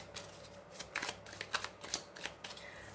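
Tarot cards are shuffled close and quiet in a rapid series of soft riffling flicks and slaps, several bursts within a few seconds with no voices.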